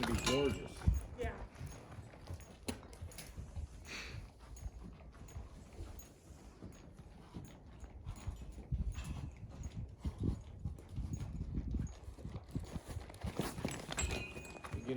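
Horse being worked and cued to lope, its hooves giving irregular soft clip-clop thuds on the ground throughout, with people talking over them and a brief dog-like sound.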